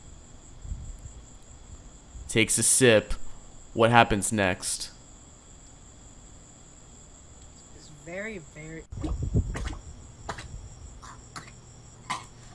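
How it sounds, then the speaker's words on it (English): Crickets keep up a steady, faint high chirping through a dark night scene. People talk over them, and several louder bursts break in partway through. "It's dark at night, you can hear the crickets going."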